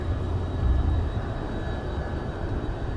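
Aircraft engine just after takeoff in the flight simulator X-Plane 11, a steady low drone with a faint high whine, swelling briefly near the start and then holding even.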